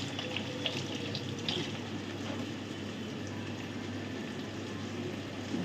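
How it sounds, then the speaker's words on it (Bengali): Hands are rinsed under a running kitchen tap, a soft, steady splash of water that continues throughout at low volume with no speech. "দাঁড়াও আমি একটু হাত ধুয়ে দিই।"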